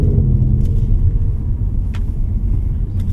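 A deep, rumbling Ford Mustang GT 5.0 V8 engine drones steadily from inside the car in normal drive mode, low and throaty with a few faint clicks.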